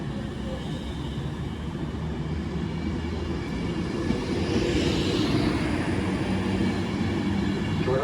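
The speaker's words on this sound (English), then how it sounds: "The slightly delayed 1327 Avanti West Coast service from Liverpool Line Street to London Euston." An Avanti West Coast Class 390 train on the West Coast Main Line rushes past with a loud, continuous rumbling roar that swells toward the middle and stays strong to the end, without speech.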